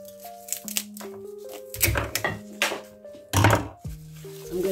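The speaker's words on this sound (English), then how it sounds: "So now I'm going to cut the flowers. I'm going to cut it from there." Flower stems being cut for a vase arrangement, giving a few short crisp snips and crunches at close range over soft music in the background.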